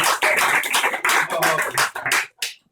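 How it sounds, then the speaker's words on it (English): Close, loud clapping from a small audience at an Edinburgh 2014 fringe comedy show for a volunteer, arriving in choppy bursts that break off and return briefly before stopping. "can I have a big round of applause for that guy over there?"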